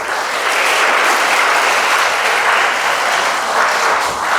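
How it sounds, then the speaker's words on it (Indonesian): A seminar audience gives loud, dense clapping that runs steadily throughout, with no voices over it. "Ya, tepuk tangan dulu semuanya."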